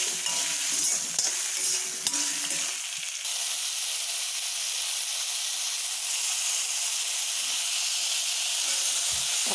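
Whole tomatoes sautéing in a pan for chutney give a loud, continuous hissing sizzle, with a few utensil knocks and scrapes early on before the frying settles into an even steam hiss.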